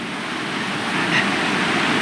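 A waterfall at a hot spring pool pours as a steady, moderate broadband roar, constant and unbroken, heard alone without voices.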